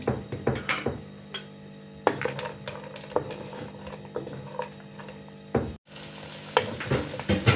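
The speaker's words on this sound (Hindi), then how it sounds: "अब मैं इसमें डालूंगी प्याज, हरी मिर्च और लहसुन। इसको थोड़ा सा सौते कर लेंगे" Onions, green chilies and garlic sizzle steadily in a hot pan while a spoon stirs and scrapes, with occasional clinks of utensils against the cookware.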